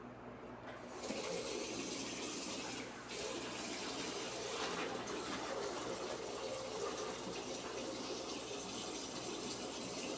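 Water runs steadily from a tap into a sink while someone washes their face with face wash, a continuous close splashing flow with slight changes in texture.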